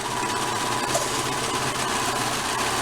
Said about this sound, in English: I'm going to use the serger. And I'm going to go across the top.